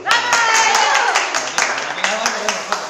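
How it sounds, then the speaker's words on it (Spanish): Applause and clapping from a school audience in a classroom after the winning team's final robot sumo match, a dense patter of hands lasting a few seconds with voices mixed in. "Un aplauso."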